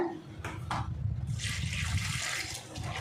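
Water is poured into a bowl over salted bitter gourd pieces, a short splashing gurgle that builds into a steady filling rush, close by and without talk.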